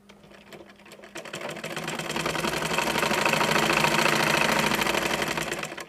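Sewing machine stitching elastic onto pajamas, starting with a few slow stitches, then speeding into a fast rapid clatter that holds steady and fades slightly at the end.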